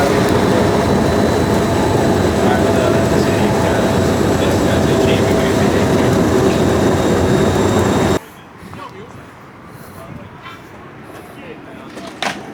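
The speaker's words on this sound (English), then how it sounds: "We're just missing the tram." Tram rolling past in a city street in Hungary, a loud continuous rumble and roar close by that cuts off abruptly, leaving quieter street ambience.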